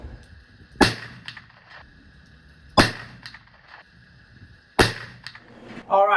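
A muzzleloader fires a charge of two 50-grain Triple Seven pellets behind a Hornady XTP 240-grain bullet. Three loud, sharp shots come about two seconds apart, each cracking sharply and then fading with an echoing tail.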